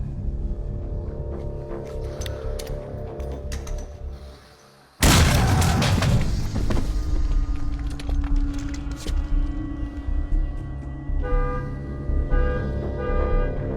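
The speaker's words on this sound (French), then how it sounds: "Grenade!" A grenade blast in a post-apocalyptic thriller film: a sudden, loud, close boom that cuts through quieter ambience, followed by a long rumbling, debris-filled tail and scattered clatter.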